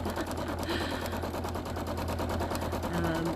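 Quilting sewing machine stitching through the centre of a quilt, a fast continuous rapid-fire clatter of the needle, steady and close throughout.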